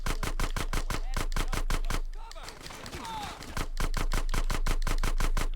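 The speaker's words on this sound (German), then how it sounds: "Wusi, schiessen mal!" Automatic gunfire in GTA San Andreas rattles in rapid, evenly spaced bursts, pausing for about a second and a half before resuming, loud and close.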